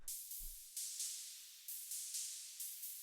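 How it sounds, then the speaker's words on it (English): Quiet, smooth filtered noise layer from an industrial techno track, soft high hiss swelling in repeated gentle pulses with no other instruments or voices. "Next thing that we have here is this little smooth noise thing"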